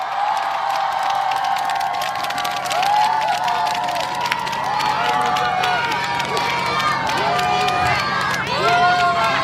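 A crowd claps and cheers steadily throughout at an outdoor concert at a dried persimmon festival in Hamyang, Korea, with scattered shouts and whistles rising over the applause.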